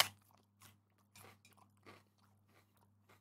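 Crunchy bites and chewing of raw capsicum with peanut butter, a few crisp crunches spaced out over a steady low hum, close and fairly quiet.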